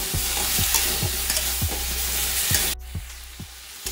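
Vegetables frying in a little ghee in a pan, with a steady close sizzle and repeated rhythmic scrapes and knocks of a spoon stirring them, heard alone without talking.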